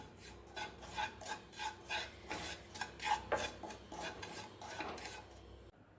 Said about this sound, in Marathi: ही धण्याची पावडर हे जे कढईला जे तूप राहिलेलं आहे त्यामध्ये परतून घ्यायची आहे